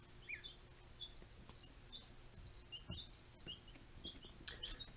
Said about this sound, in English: Some happy little birds right there.